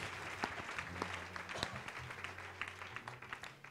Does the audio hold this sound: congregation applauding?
yes